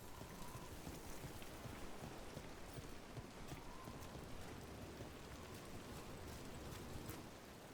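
Steady rain hisses in an even, soft wash from a rainy scene in the video game Dragon Age: The Veilguard, with no voices.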